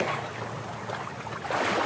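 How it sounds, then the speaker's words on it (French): Water laps and splashes softly against a boat hull, a continuous gentle wash with a slight swell toward the end. "le bruit de l'eau sur la coque"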